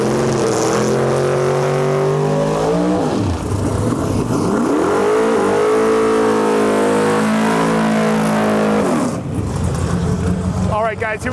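A drag racing car in Lights Out 16 eliminations revs hard and launches, a loud, close engine roar that sweeps up and down in pitch before fading, with talk mixed in.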